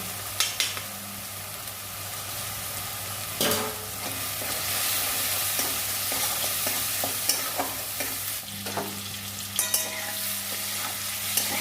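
Potatoes frying in a pan of oil for an ol-alu dalna, a steady close sizzle running throughout with occasional scraping stirs and clinks, no voices.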